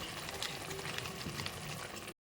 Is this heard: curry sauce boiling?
yes